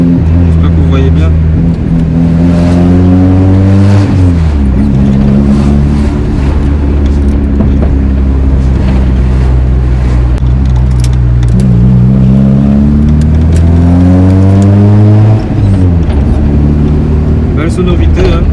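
A 1995 Honda Civic MA8 engine revving while driving, loud and close, climbing through the revs twice with falling pitch between, someone talking over the engine.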